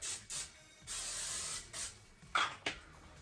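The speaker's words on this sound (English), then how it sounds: "But first I'm going to spray my pans." Several short bursts of cooking spray hiss onto baking pans in quick succession, with brief pauses and a couple of light clicks between them.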